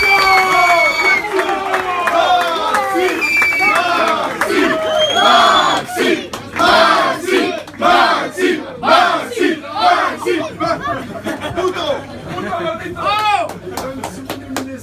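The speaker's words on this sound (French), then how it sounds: "Je vous demande un tonnerre d'applaudissements pour Maximiliano." A crowd at a Stade Nantais awards evening for the RoccoKoko rooster trophy roars with loud cheers and shouts, with hand claps mixed in, sustained for about fifteen seconds and swelling in bursts.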